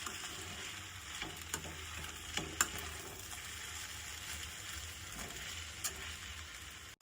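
Sweet potato and sabudana upma frying and being stirred in a pan, a soft steady sizzle with a few faint scraping knocks, quiet and close, no talking.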